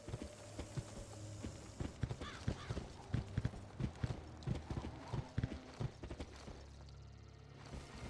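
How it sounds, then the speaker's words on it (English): Steady horse hooves clip-clop through a Pirate101 video game scene, a run of distinct close hoofbeats with a brief whinny, over soft ambient game sound and no speech. "Who's keeping a horse here?"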